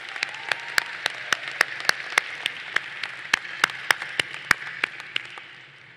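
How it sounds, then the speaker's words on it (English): Claps ring out at a university fall commencement ceremony, coming as a series of sharp, evenly spaced hits in a steady rhythm over a faint hall background, then trailing off near the end. "Please give them a rousing round of applause."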